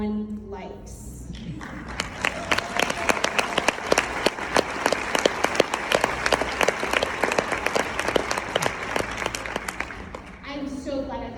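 A keynote audience at CookieCon in Reno breaks into dense, lively applause that swells quickly and holds for several seconds before fading, with a presenter's voice heard briefly before and after.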